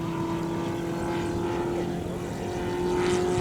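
A one-of-a-kind propeller airplane flying at an airshow gives a steady, droning engine hum with a strong constant tone. It holds at moderate distance for several seconds, swelling slightly near the end, with no talk.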